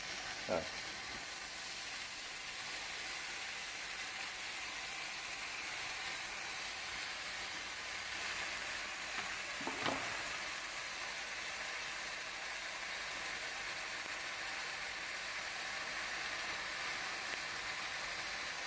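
Bacon rashers sizzling in a hot frying pan with melted fat, a constant bright crackling hiss that runs throughout, with a couple of sharper pops and faint talk underneath.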